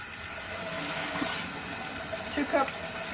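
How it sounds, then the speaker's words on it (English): Hot water pours into a pot of toasted white rice with a continuous rushing gush, faint and steady, with a voice briefly under the stream near the end. "So we're going to add hot water."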